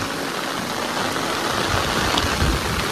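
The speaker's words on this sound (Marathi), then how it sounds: "मित्रांनो जाम जोरात पाऊस चालू झालाय" Heavy monsoon rain pours steadily onto a flooded paddy field during rice transplanting, a dense, loud, unbroken hiss close by with no voices.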